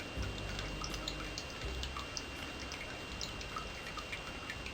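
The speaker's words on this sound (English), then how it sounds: "The water has dwindled to a trickle, but as long as it comes" Water trickling and dripping from a rainwater tank at a cottage, heard as close, irregular drips and splashes over a soft, steady wash.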